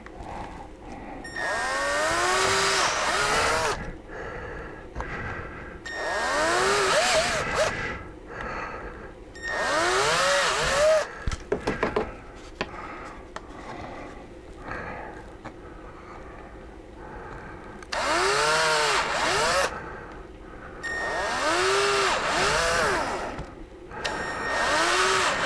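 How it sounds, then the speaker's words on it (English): A handheld power drill whirs in several separate bursts, its motor pitch climbing as each run spins up, with short pauses between. "I usually just use a hand drill just because it's much faster."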